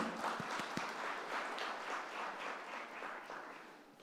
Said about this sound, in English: A big round of applause to managing committee.